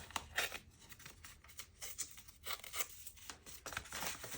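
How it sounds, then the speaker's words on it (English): Paper torn by hand while making a junk journal tag, a run of close, dry ripping and crinkling bursts that come in uneven pulses over several seconds, fairly quiet and with no voices. "Well, I'm going to rip it."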